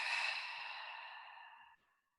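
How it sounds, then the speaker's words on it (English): A single open-mouth exhale during pranayama breathing practice, a soft breathy whoosh that fades out over about two seconds, close and quiet with no talking. "big inhale. And open mouth exhale."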